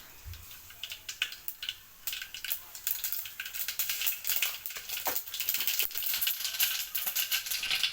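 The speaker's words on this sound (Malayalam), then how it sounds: "കുറച്ച് കടുക് പൊട്ടിക്കാം." Mustard seeds in hot coconut oil pop and splutter in rapid, irregular crackles that build denser and louder toward the end, close up with no voices.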